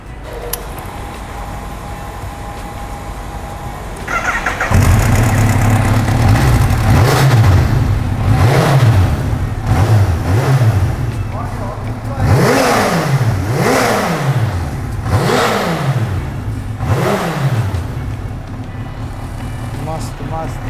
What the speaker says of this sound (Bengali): তো এখন আমি কাওয়াসাকি নিনজা H2 দুর্ধর্ষ বাইক, তো আমি স্টার্ট করব।